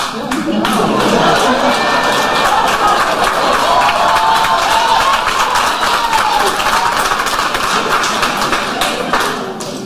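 Sustained crowd applause and cheering at the Salute Her Awards ceremony, loud and dense throughout with a few voices mixed in.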